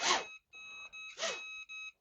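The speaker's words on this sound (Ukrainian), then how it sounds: "Коли воно пищить, насправді дрон уже заармлений." An FPV racing drone armed in turtle mode gives a short series of steady electronic beeps in close, clean bursts with brief pauses between them, heard alone without talk.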